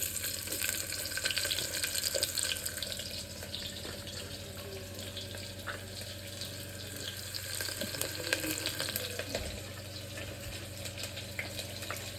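Onions tipped into hot oil in a home kitchen pan while cooking a simple chicken pulao, giving a loud, steady sizzle and crackle that runs throughout with faint water and stirring noises, no talking.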